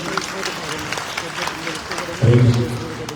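Audience at a Bhagavat Katha gathering bursts into loud applause to welcome children, a sudden strong burst of clapping after a stretch of background chatter and murmuring voices.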